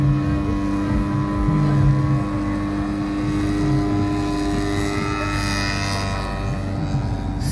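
An aerobatic propeller plane's engine drones steadily overhead at a hot-air balloon festival, its pitch shifting as it maneuvers, loud and continuous with a faint wind-like hiss.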